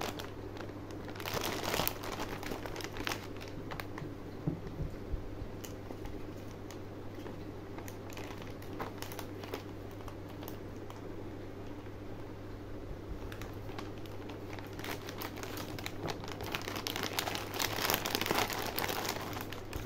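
A plastic packet of Parle Krackjack butter masala biscuits being torn open and handled. Quiet crinkling and rustling comes in bursts over a faint fan hiss, with no talking.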